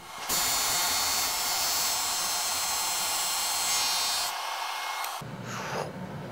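Festool sander working the surface of Damascus micarta, a loud continuous high whine close by for about four seconds, then briefly cut off and resuming with a rougher, shifting tone.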